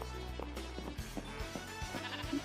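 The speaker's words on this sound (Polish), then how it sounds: "O, owca." A sheep bleats in short wavering calls, a few times over a quiet background hum, fairly faint and with no talking.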